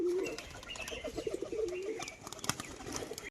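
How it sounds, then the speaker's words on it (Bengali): Pigeons in a loft, including a fancy-coloured male, give a close, steady series of low rolling coos, with light rustling and a few soft chirps behind them. "একটা ফ্যাশা নর পায়রা, দেখুন সুন্দর কালারের মধ্যে ফ্যাশা পায়রা"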